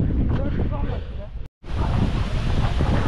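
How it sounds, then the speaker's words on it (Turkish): Steady broadband rush of a waterfall deep in a mountain canyon on Crete, a continuous roar heavy with wind buffeting on the microphone, broken by a brief dropout, with faint voices under it. "gerçekten böyle dağların ortasında mükemmel bir şelale sesi duyuyorsunuz zaten"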